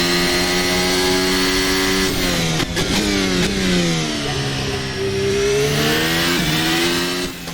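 A turbo hybrid era Formula 1 car in the Formula Hybrid 2023 racing sim revs hard and steady, its engine pitch climbing through gears with brief dips at each upshift, loud and close without talk.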